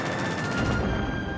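World War I machine gun fires a rapid, continuous burst of closely spaced shots, loud and unbroken for about a second before easing off.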